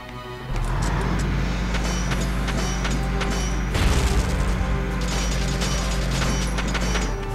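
A tank in Valkyria Chronicles on PS3 rolls with a steady low engine rumble and mechanical clanking, a heavy boom or crash partway through, continuous and loud with no voices.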